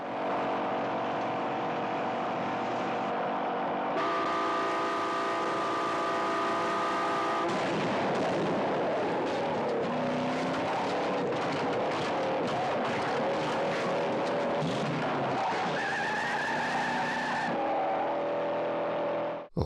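Film car chase from a street onto a highway, with roaring engines, revving and screeching cars passing close and loud throughout, with shifting tones as vehicles speed by; no clear gunshots stand out.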